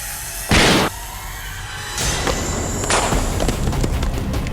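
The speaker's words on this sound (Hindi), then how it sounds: "ये गोली चलने की आवाज है।" A single sharp gunshot bursts out, loud and close, followed by a rumbling, busy aftermath of thuds and noise.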